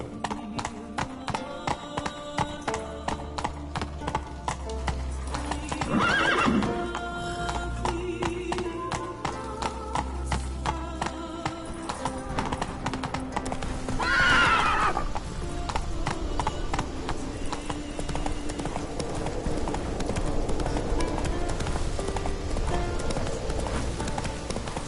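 Geralt's horse Roach in the Witcher 3 video game gallops with a steady, rhythmic clip-clop of hooves, and a short neigh breaks through partway, all set against a game soundscape.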